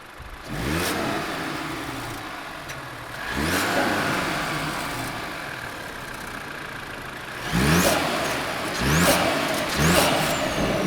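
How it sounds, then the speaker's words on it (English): A 2022 Mercedes C300 engine revved while parked, several sharp throttle blips rising and falling over a steady idle, the last ones coming in quick succession. "I'm gonna actually have my friend Anthony rev it for us so we can get a sound test of this car"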